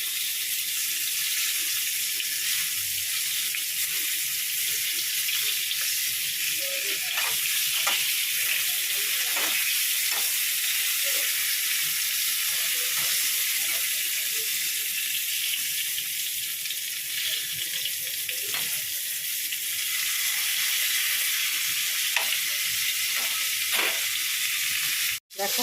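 Pointed gourd fries in hot oil until reddish, giving a steady, close hiss of sizzling. Faint clicks and pops rise now and then, with no talking.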